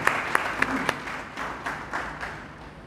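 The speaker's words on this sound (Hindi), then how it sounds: "जोरदार तालियों से बड़े भाई का स्वागत करेंगे" An audience at an outdoor political rally in Kurukshetra, Haryana applauds to welcome a speaker, with brisk clapping that is loud at first and thins out over a few seconds.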